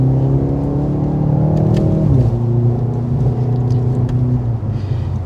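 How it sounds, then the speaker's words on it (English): A 2023 Mercedes C43 AMG with a dual-clutch gearbox pulls hard, its engine droning loud and steady, then a quick paddle-shift drops the pitch before it climbs again in the next gear, with no talk. "When you hit these large metal paddle shifters, that thing shifts."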